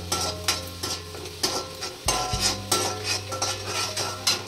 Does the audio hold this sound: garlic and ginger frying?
yes